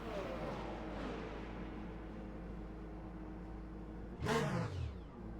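A race car engine in the sim game Le Mans Ultimate hums and whirs steadily as the car pulls away, then a sharp rising-and-falling swoosh cuts in near the end, over faint low rumble.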